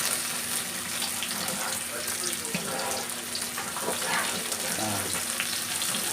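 Tomato fries in a pan with onion, giving a steady, moderately loud sizzle and crackle with faint scraping throughout.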